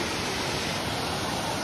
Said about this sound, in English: You can see it's got multiple layers of waterfalls.